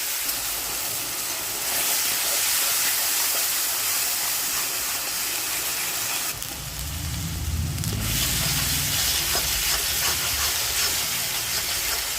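White cumin seeds tempering in hot oil give a loud, steady broadband sizzle and hiss that runs the whole time, with a brief burst of low rumbling spatter partway through, no voices over it.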